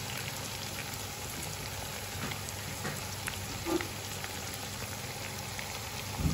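Ginger-garlic paste and spiced yogurt masala fry in a pan with a soft, steady crackling sizzle, fairly quiet and continuous, and a few faint clinks near the end.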